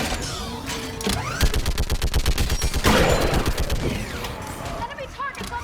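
Mounted gun in the video game Mass Effect 3 hammering out rapid bursts, a loud rhythmic chatter of close shots over battle noise, with a heavier blast partway through and voices shouting in the mix.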